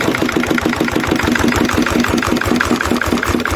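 A Lister diesel engine chugging steadily with a fast, even knocking rhythm, close and loud throughout; no shutdown is heard within the span.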